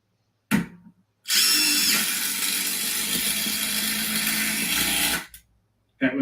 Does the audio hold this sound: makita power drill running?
yes